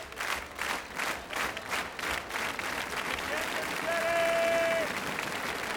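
Crowd at an American Gladiators event cheers and applauds steadily in a loud, continuous wash of clapping and shouting, with a commentator talking over it.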